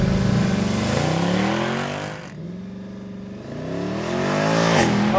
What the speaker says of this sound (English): I'm just going to roll on the throttle with my right and lift off the brake